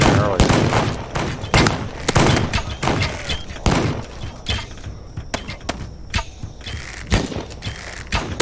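Rapid bursts of gunfire in a hardcore campaign shooter game, sharp repeated shots scattered across the stretch with mechanical clanks and thuds between them, fairly loud and close.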